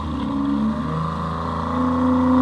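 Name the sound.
snowmobile engine running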